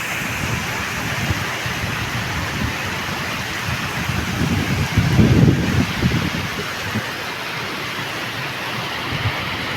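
Heavy rain pours in a storm, a dense steady hiss with a low rumble swelling briefly midway, steady throughout.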